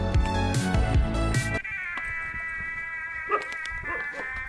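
Dogs barking in a North Karnataka village setting: a loud burst of yelping, harmonic barks and howls in the first second and a half, then sparser, fainter barks over a steady background hum.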